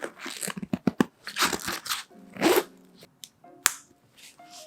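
A zipper being pulled shut on a packed Samsonite Carried Away convertible bag, with short rasping bursts, tugs and fabric crunches in an uneven, effortful rhythm, close up.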